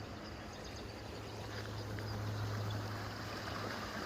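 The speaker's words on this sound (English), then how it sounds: "I'm really only recording this because of how pretty the water sounds." Water flowing steadily through an aqueduct on a rainy hike at Jester Park, a continuous rushing wash with a low hum underneath, no voices.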